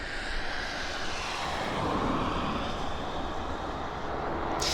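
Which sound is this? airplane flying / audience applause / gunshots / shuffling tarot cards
airplane flying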